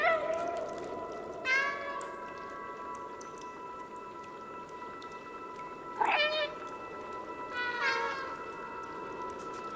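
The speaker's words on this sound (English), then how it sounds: "they meow anyway" Cats meowing in the video game Stray, several drawn-out rising meows at intervals over a steady electronic hum and soft background ambience.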